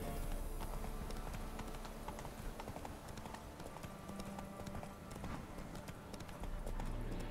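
Hooves of Roach, Geralt's horse in The Witcher 3, clip-clop in a steady, continuous rhythm, close and fairly quiet, over a constant bed of game ambience with no talking.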